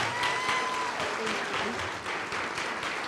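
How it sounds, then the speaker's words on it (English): An audience at a community college event gives a student speaker a quick round of applause, a dense, even wash of many hands clapping that holds steady for about three seconds with no talk over it. "give Jennifer a quick round of applause"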